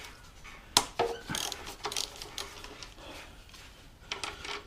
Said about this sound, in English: these bolts in the caliper here, as you can see, 12mm, so set a ratchet to take them off